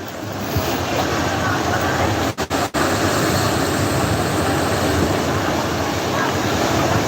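Ocean waves and surf on a Puerto Rico shore roar steadily and loudly, a dense continuous wash of water with gusty wind buffeting the microphone and a few brief dropouts.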